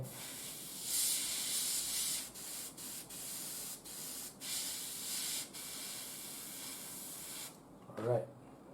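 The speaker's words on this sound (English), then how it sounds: "So now we are spraying." Aerosol spray paint hissing in long continuous bursts with brief pauses, close and fairly loud, ending with a short voice after the spraying stops.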